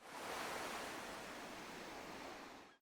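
Steady ocean surf ambience chosen as the room sound in an Animal Crossing home layout, a continuous soft wash of waves with no breaks and no talking throughout.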